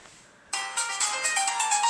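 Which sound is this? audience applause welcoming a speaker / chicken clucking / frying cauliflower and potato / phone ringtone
phone ringtone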